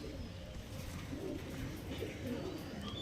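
Pigeons of a fancy Andra Star Kalanka variety coo in soft, low, rolling murmurs that overlap at a fairly faint level, close by and without clear talking.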